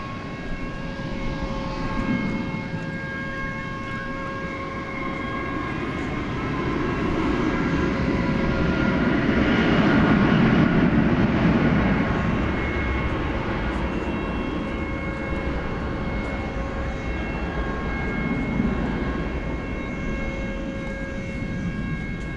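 A Boeing 757 at DFW at night, bound for Chicago Rockford, sends up a steady jet engine roar that swells to a broad peak midway and then holds at a sustained rumble.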